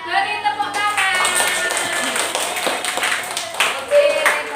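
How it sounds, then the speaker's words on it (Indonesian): A classroom group applauds the winners of a communication quiz game, a dense flurry of close clapping that swells and continues under chatter and voices. "Beri tepuk tangan."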